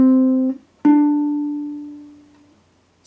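Two sustained tones a second apart, C then D, played one after another: a short held C followed by a longer D that slowly decays, clean and close with no talk.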